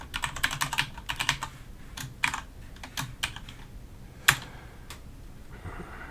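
Code being typed on a computer keyboard, a close, rapid run of key clacks in uneven bursts with one harder keystroke near the end, no talk.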